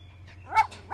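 A small dog gives two short, sharp yelping barks with a whimpering tone, close by and fairly loud against a low steady hum.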